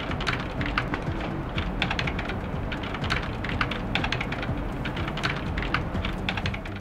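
Rapid, continuous typing on an Armaggeddon AK-6880 membrane keyboard, a dense stream of soft, close keystroke clicks with no talking.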